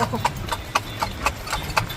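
Horse hooves clip-clopping at a steady trot on pavement at Luneta Park, Manila, sharp regular hoof strikes about every quarter second, close and clear over low street rumble, with voices faintly in the background.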